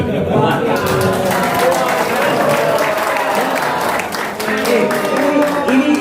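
An audience at a discussion session gives a dense, continuous round of clapping for six seconds, fairly loud and close, with voices mixed in underneath.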